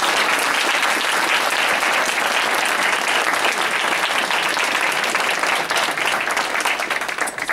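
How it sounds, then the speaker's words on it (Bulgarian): An audience applauds at the close of a lecture on web design and Photoshop, with steady, dense clapping filling the room for several seconds and thinning slightly toward the end. "може да ме ръкопляскате."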